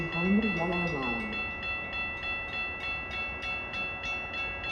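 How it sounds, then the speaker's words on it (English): A Metra Milwaukee North commuter train pulls into the Lake Cook Road station during an evening blizzard, its horn sounding near and loud at the start before a steady rhythmic clatter of wheels over rail joints, with a station announcement voice over it. "Milwaukee North train number 2145 to Grays Lake is now arriving."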